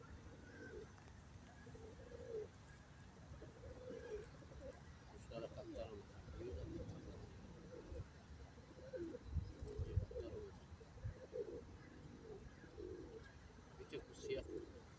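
Pet pigeons coo repeatedly in low, throaty phrases at close range, with a few chirps, while a person talks over them and soft room noise continues throughout.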